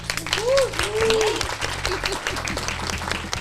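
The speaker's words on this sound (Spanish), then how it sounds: "Le damos un aplauso a Susana Morales" An audience applauds for Susana Morales, steady clapping running underneath a person talking throughout.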